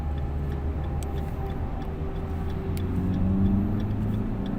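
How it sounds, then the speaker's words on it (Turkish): Car turn signal indicator ticking inside a moving car during driving exam practice, a steady faint tick repeating at an even pace over the low engine and road rumble. "Sinyalimizi kapatmıyoruz ani frenden sonra."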